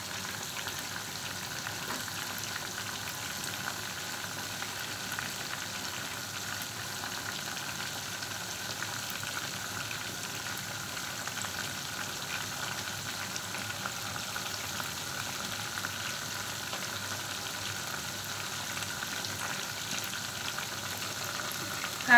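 Chicken frying in a pan with curry leaves, coriander and mint gives a steady, moderate sizzle with a faint crackle throughout, no voices.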